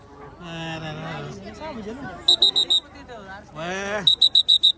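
A referee-style whistle gives two bursts of short, shrill, evenly spaced blasts, about five each, between excited talking voices close by.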